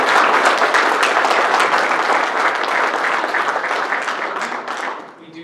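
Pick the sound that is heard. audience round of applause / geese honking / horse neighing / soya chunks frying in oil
audience round of applause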